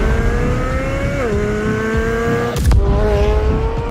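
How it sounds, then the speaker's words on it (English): The exhaust of a 2023 Corvette Z06 with 670 horsepower, loud and close, holding a steady engine note that rises and then drops sharply in a quick rev, with no talking. "I can sit there and listen to these sound bites of this exhaust all day"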